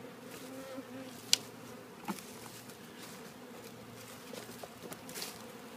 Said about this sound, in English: Zillions of bees in the air wondering where their hive went.